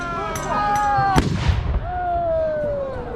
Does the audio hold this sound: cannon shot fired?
yes